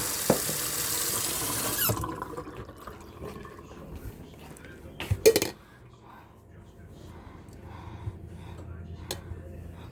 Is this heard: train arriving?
no